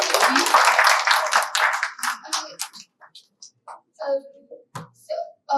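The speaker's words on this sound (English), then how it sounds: "Give a round of applause to everyone here." Audience applause closing an Islamic finance investment event, a dense burst of clapping for about two seconds that thins into scattered individual claps and fades, with faint voices at the end.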